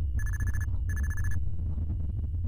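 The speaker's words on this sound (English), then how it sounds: "Oh, the phone." A telephone rings twice in quick succession, each burst a bright electronic trill, followed by a quiet room with a low hum.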